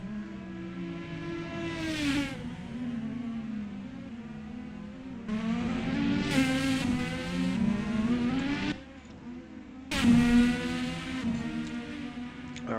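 An IndyCar race car engine heard on board along the backstretch at Virginia International Raceway: a loud, close engine climbing in pitch through repeated upshifts, with brief dips between gears and no talk.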